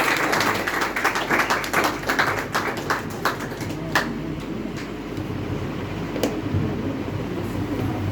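Audience applause for Pastor Faisal, a burst of rapid clapping that fades after a few seconds, leaving scattered claps and low room noise.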